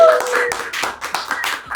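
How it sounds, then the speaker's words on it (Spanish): A small group claps for a church worship ministry's production team, the sparse, uneven hand claps coming in short irregular bursts close by, with no one speaking. "Un aplauso para la producción también"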